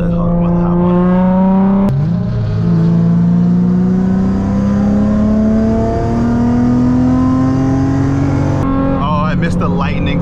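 A loud tuned sports car engine, a Nissan 350Z or tuned Infiniti G35, drones and rises steadily close by, briefly dipping at a gear change before climbing again, with talk over it.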